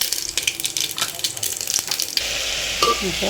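Five-spice tempering sizzles in hot oil in a pressure cooker in a home kitchen, with crackling and stirring noises, then settles into a steadier, louder sizzle partway through.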